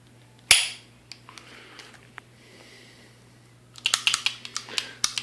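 A Bob Long Reptile paintball marker gives one sharp, loud snap, then after a quiet pause a quick run of close, crisp trigger clicks.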